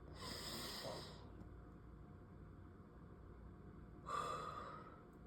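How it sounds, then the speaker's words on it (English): A slow, audible inhale and exhale, like a deep cleansing breath taken during a calm guided pause, quiet and close, with a second breathy burst a few seconds later. "Let's take a deep breath."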